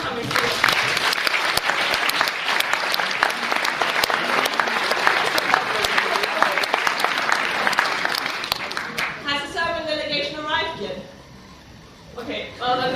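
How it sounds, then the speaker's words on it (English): Sustained applause from a conference audience, dense clapping throughout, thinning out toward the end as a voice begins speaking. "that's worth an applause for coming here"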